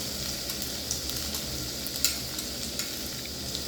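Spice-paste water goes into a frying chicken and potato curry. A continuous sizzle follows, with light stirring clinks and scrapes close by.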